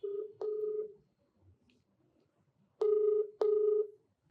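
Telephone keypad tones beep out a number in short spaced bursts, close and clear against near silence.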